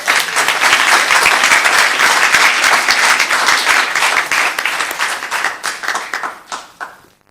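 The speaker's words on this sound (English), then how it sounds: "Let's give her another round of applause." An audience at a town council meeting applauds in a long, dense round of clapping that stays full for several seconds before thinning out and fading.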